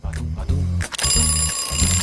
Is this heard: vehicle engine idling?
no